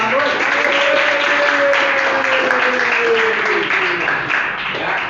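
Applause from a classroom audience at a teaching assessment session, dense and continuous clapping with a voice or tone faintly audible under it, tapering slightly toward the end.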